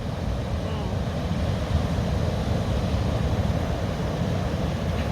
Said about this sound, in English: It's big waves.